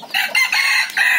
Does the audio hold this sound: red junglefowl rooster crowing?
yes